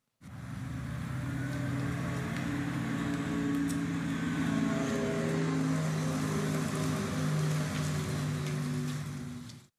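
A steady synthetic hum with layered tones from a Renault Zoe electric car's exterior warning sound, played through the car's speakers, swells in and holds for several seconds, then fades out.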